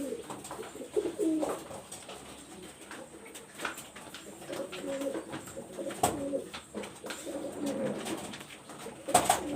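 Several pigeons, including Pakistani high-flyer and Teddy breeds, coo on and off in repeated low, throaty bursts, near and moderately loud, with light rustling between calls and no talking.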